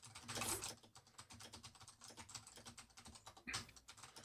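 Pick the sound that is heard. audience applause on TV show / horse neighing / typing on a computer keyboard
typing on a computer keyboard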